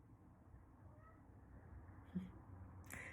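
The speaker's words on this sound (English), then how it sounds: "that's my cat in the background" A house cat meows faintly in the background of an indoor room, a short soft call partly buried in low ambient noise.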